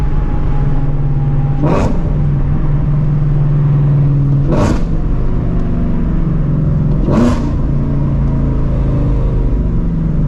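A supercharged Shelby GT350 engine runs steadily in track mode, a loud continuous rumble with three brief surges in its ten seconds.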